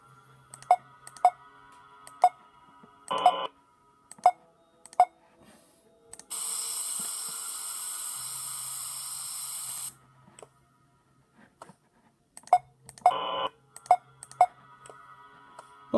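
Sensor beep button in the Five Nights at Spy's game, sharp isolated clicks and tones spaced through a quiet stretch, with a long steady hissing buzz in the middle and short electronic bursts at either side.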